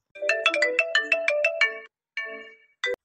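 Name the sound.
phone ringtone, mother-in-law calling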